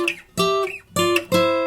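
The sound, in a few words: acoustic guitar riff, hybrid picking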